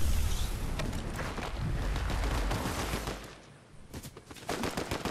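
Dense gunfire from a Fortnite Chapter 5 Season 2 match, with rapid overlapping bursts and shots that keep up almost without a break, ease briefly, then return as sharper, louder individual cracks.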